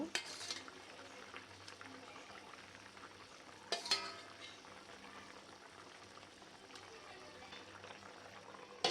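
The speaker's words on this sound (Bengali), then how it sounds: "এই যে তরকারির বলকটা চলে আসছে অনেক সুন্দর করে।" Hilsa and eggplant curry comes to a boil in a pot, giving a faint, steady bubbling simmer with a couple of brief clatters near the start and middle.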